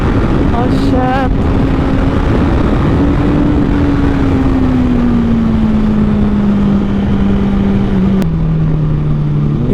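Loud, steady engine drone of a Honda CBR1000RR Repsol Edition liter sportbike fitted with a Taylormade exhaust, running continuously at speed with pitch slowly falling, wind rush layered over it and a brief voice early on.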